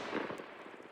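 A sniper rifle fires in the video game Arma Reforger, a faint, muffled crack followed by a short rolling echo, heard alone.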